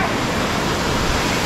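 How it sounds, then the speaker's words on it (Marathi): Water from a full, overflowing dam pours straight down in a steady, dense roar. The close, loud torrent fills the whole moment without letup. "डॅम जेव्हा पूर्ण भरतं मित्रांनो इकडून पाणी येतं, यासाठी पाणी असं येतं डायरेक्ट इकडून असं खाली जातं"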